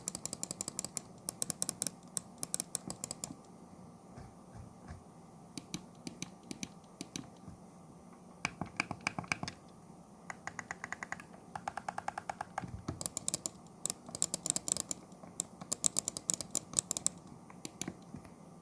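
Crisp clicks from the buttons of a Fantech THOR II X16 gaming mouse, arriving in quick clustered bursts separated by brief pauses, close and fairly quiet over faint background hiss.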